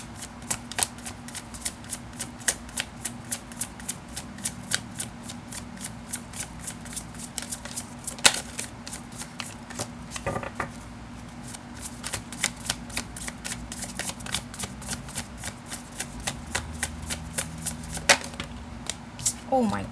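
Tarot cards are shuffled by hand for a reading, a long run of rapid crisp riffling and slapping card sounds at close range, steady with brief pauses, with a voice faintly audible in places.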